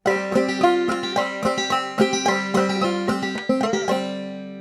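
A banjo in sawmill tuning plays the A part of "Cluck Old Hen", a quick, bright clawhammer melody with rhythmic plucked notes and ringing drone strings, alone and close.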